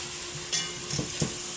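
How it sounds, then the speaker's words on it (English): Curry chicken browns in a Dutch pot on the stove, giving a steady sizzle broken by a few scraping stirs near the middle and toward the end. "So I'm cooking it in a Dutch pot right now. So I'm making that brown."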